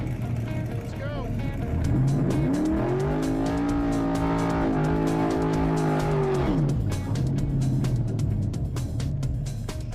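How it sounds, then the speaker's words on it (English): The Mean Green car accelerates down a racetrack, its engine climbing in pitch through a rising rev, holding a high steady drone, then dropping back as it shifts, loud and close with tire noise underneath. "After working on this car for more than a year, it's Brandon's first run on a track."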